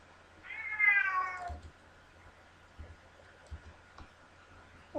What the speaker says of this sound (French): Ça, là, c'est mon chat qui miaule.